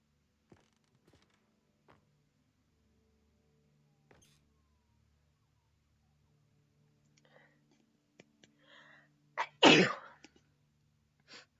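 A single loud, close sneeze bursts out near the end after a stretch of near silence broken by faint clicks and soft whispery breaths.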